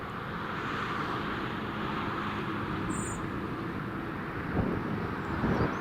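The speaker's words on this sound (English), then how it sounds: "that's a Jet2 just pushing back." A Jet2 airliner pushes back at Newcastle International Airport, giving a steady, broad roar of aircraft engine and ground noise heard from a distance, with wind on the microphone and no speech.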